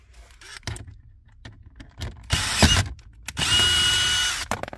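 A power tool removes 7 mm bolts inside a GMC Terrain: a brief first whir, then two close, loud spinning bursts, the last one long and sustained, separated by quiet handling clatter.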